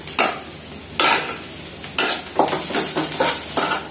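Onions browning in a pan for mung dal with drumstick leaves, stirred with a utensil in regular scraping strokes about once a second over a low sizzle.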